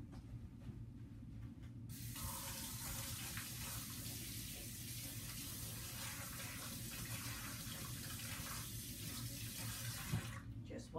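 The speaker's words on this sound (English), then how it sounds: "wash it off in the sink with some water" A sink tap running steadily while a paintbrush is rinsed, a close, continuous rush of water that starts suddenly and carries on for several seconds before cutting off, with no talk over it.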